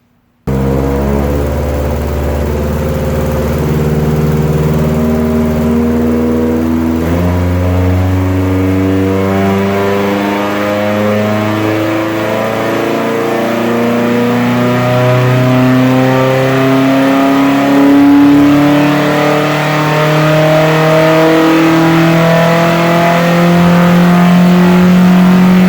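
A Subaru EJ18-engined wagon revving on a dyno pull, the loud engine note climbing steadily in pitch through the gears with short dips at each shift, sustained and close.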